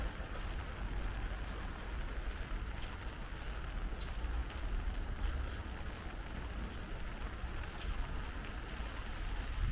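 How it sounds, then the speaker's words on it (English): Heavy rain pours onto a road in a dense, continuous patter and hiss, steady throughout with water splashing on the wet surface and no talk. "It's heavy rain, you know, and this will go on for the rest of the day"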